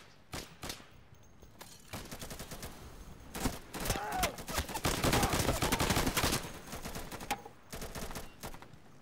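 Rapid gunfire bursts from the tactical shooter Insurgency, played on Linux, with sharp repeated shots and short automatic volleys that build to a dense, loud exchange in the middle before easing into scattered shots.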